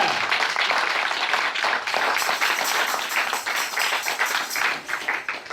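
A church congregation at an evangelical service applauds together, dense, continuous clapping from many hands close by, sustained throughout.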